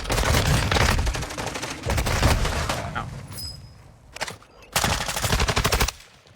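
Rapid automatic gunfire from a Warzone match, bursts of machine-gun fire and volleys in several loud stretches with short gaps, mixed with game sounds and a voice talking over parts of it.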